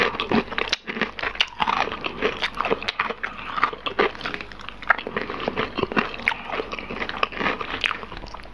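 Crunchy KFC fried chicken breast is eaten close to the mic, with dense, loud bites, crackling crunches and wet chewing running continuously without speech.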